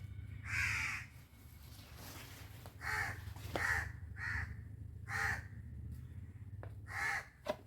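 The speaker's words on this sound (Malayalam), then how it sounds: "ആരെയാ കാക്ക വിരുന്ന് വിളിക്കണേ?" A crow caws repeatedly in harsh, loud calls, about six bursts spaced unevenly over a steady low background hum.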